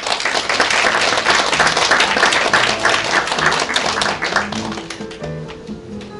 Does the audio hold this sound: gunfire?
no